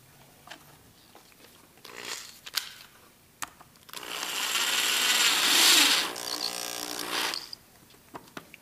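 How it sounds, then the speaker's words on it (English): A screw is driven into a wooden candy dispenser. Scattered small clicks and taps come first, then a loud power-driver whir lasts about two seconds and stops. Everything is close and no one speaks. "put a screw down in there to hold everything together"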